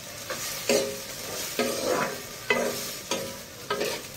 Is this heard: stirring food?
yes